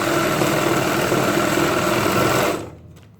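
A sewing machine stitches a seam on a Punjabi pajama in one continuous, loud, close whir that stops abruptly near the end, leaving quiet.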